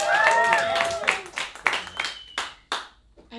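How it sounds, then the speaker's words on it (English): A few sharp, separate hand claps from a performer at an open mic comedy night, ringing out over and between stretches of talking and vocal sounds. "I was just clapping."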